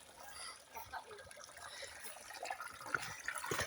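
Stream water flowing in a park in Aglantzia, Cyprus, a soft steady trickle and splash that stays fairly faint and continuous, with light movement noise over it.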